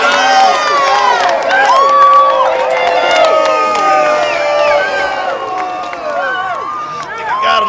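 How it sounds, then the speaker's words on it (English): A crowd cheers and shouts for the winner of a fast, lopsided contest at a Western-style gathering, a loud, dense roar of many voices with whoops and shrieks running throughout. "Let's get a cheer for our winner"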